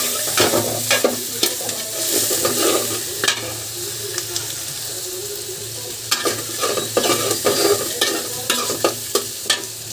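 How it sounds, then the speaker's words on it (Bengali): Fish frying in hot oil in a pan, a loud continuous sizzle close up, broken by repeated scraping and stirring knocks of a spatula, with no talking. "মাছ তো ভেজে নিছি"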